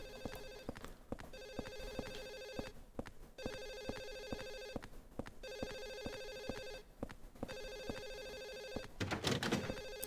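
An electronic telephone ring in the Silent Hill 4 video game repeats in steady bursts with short gaps, several rings over the span, alone without talk, ending in a brief rougher noise.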